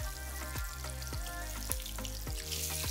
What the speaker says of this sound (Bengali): এবার মিডিয়াম আঁচে মাছগুলোকে এপিট ওপিট করে ভেজে নেব।